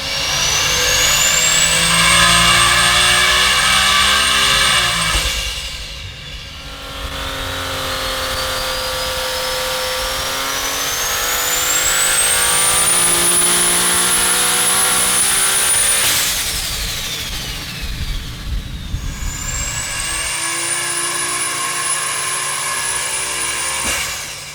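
A Ford Barra turbo straight-six on a dyno howls for a long stretch, its pitch sweeping up in long pulls, easing off, then rising again, with a high turbo whine on top, loud and steady, with no voices.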